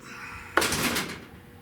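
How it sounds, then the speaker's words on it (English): A car door on a restoration project closing solidly, one sharp close-up thud with a brief rattle that decays within about half a second. "see this door ain't binding up when I open or close it"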